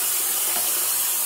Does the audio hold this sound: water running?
yes